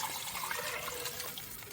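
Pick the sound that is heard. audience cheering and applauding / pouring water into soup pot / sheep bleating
pouring water into soup pot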